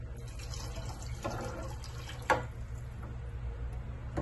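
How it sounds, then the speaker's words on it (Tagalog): Water pours steadily into a cooking pot of leftover rice for a Filipino recipe, a soft continuous splashing stream with one brief clink partway through, fairly quiet and without speech. "dadagdagan po natin ng tubig."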